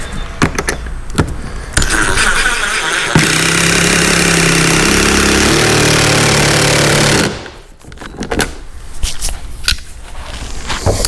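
Power screwdriver driving screws into cheap furring strips on a wooden shipping crate, a sustained buzzing whir of several seconds between bursts of knocking and handling clatter.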